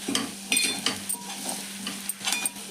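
Ground masala spices are stirred in a hot pan for a simple chicken fry, with a spoon scraping and clinking against the metal in quick irregular strokes over a soft sizzle, close up and without speech.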